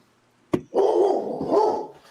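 A dog nearby gives one sharp bark followed by a drawn-out whining, howling vocalization that rises and falls for over a second, fairly loud against a quiet room.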